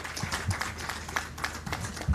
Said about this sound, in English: Another round of applause for Her Excellency Elsie Atafwa.